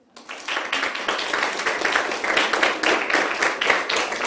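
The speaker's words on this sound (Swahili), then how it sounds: "Anne Kananu, makofi kwake" Children at Marion School break into lively applause for Anne Kananu, the Nairobi governor, with a steady burst of close, overlapping claps lasting several seconds.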